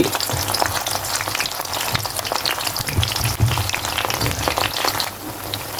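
Thin slices of eggplant frying in oil, a steady dense sizzle and crackle that holds nearly unchanged throughout, close up with no voices.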